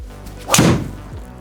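A single sharp, hollow titanium crack of a PING G430 Max 10K driver face striking a golf ball, short and loud, then quiet.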